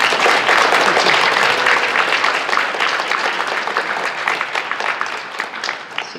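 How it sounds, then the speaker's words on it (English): Sustained audience applause at a National Technical Honor Society induction ceremony, dense clapping from a standing crowd that stays loud and gradually thins toward the end. "So could you please rise and give the audience an applause."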